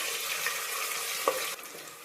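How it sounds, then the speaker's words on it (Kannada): Chopped onion and grated ginger fry in hot tempering oil, giving a soft, steady sizzle with a small clink partway through, faint and close, with no talking. "ಇವಾಗ ಈರುಳ್ಳಿ ಒಂದು ಅರ್ಧ ಫ್ರೈ ಆಗ್ತಿದೆ"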